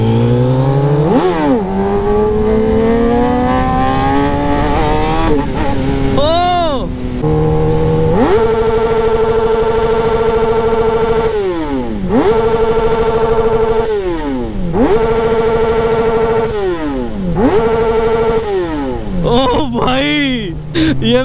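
A modified KTM Duke 390 with dual disc brakes revs hard while being ridden, engine pitch repeatedly climbing and dropping through gear changes, loud and close for the whole stretch, with a rider talking over it.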